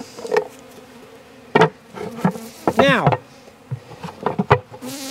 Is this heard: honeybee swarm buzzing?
yes